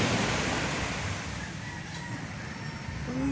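Ocean waves wash ashore at the seaside in a soft, steady hiss of surf with gentle swells in level, mixed with light wind and no voices.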